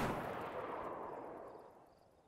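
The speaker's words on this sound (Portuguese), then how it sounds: "o filho da mãe tá atirando aqui" A single gunshot in the survival game DayZ, Standalone 0.63, fires as a sharp burst and then rolls off into a long, fading echo over about two seconds. It sounds fairly distant, with no voices.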